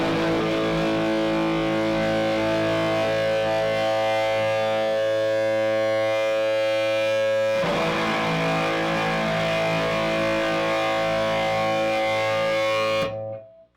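An electric guitar power chord on A played through a Jackson Audio fuzz pedal gives a loud, thick, saturated sustained buzz. It is re-struck once partway through, rings on and then cuts off abruptly near the end.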